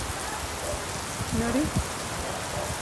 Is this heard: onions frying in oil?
no